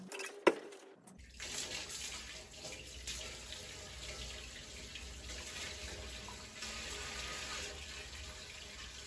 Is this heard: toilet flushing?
yes